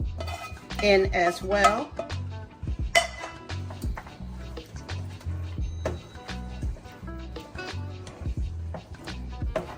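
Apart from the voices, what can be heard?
sausage being added to a pan and cooked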